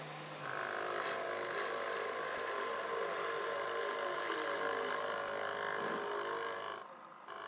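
A pillar drill runs continuously while cutting away excess wood from a pine guitar body, a steady whirring hum with a faint grinding texture, ending abruptly.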